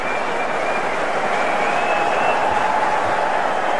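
Spectators at a 2004 India versus Australia one-day cricket match clap steadily in a broad, continuous wash of crowd noise, with a few louder voices rising above it.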